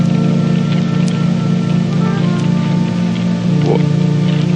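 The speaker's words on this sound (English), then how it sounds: "It's still raining." Steady rain falls in an even, continuous hiss, with a low hum running underneath and no voices.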